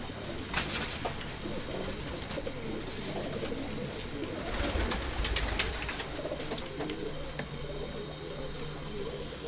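Soft, repeated coos of large Adana pigeons murmur steadily inside a loft over a low background hum, fairly close and gentle, with no talking.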